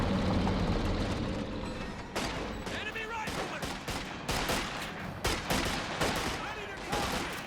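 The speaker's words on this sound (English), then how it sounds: "those carbines there doing some good damage" Carbine gunfire in the real-time strategy game Company of Heroes 2 during a 1v1 battle, rapid, dense crackling bursts and scattered shots over a rumbling engine bed, with voices talking underneath.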